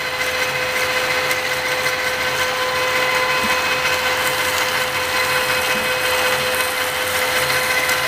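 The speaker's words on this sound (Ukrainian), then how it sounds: "Далі розсверлюємо під. 25 На автоматі станок працює, на подачі вертикально вверх." Drilling machine on automatic vertical feed steadily bores out a hole in a stainless steel motorcycle handlebar mount, a loud, constant close hum with a high whine and no voices.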